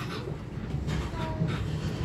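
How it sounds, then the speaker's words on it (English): Inside an LNER HST high speed train in motion, a steady rumble of wheels and carriage noise with a faint, brief squeak rising over it. "It's got the lovely HST squeak to it."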